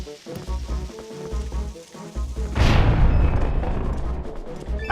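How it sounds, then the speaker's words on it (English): A bomb blasts in The Legend of Zelda: Twilight Princess HD, a loud booming burst midway that decays into a long rumbling, crackling tail, cutting through rhythmic game music that plays before it. "let's go ahead and bomb this"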